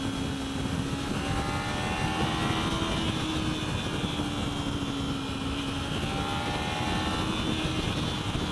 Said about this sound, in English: see how smooth this engine wants to go.